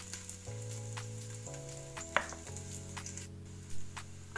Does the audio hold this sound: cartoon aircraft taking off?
no